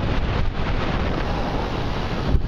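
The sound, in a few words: wind noise on microphone while bike riding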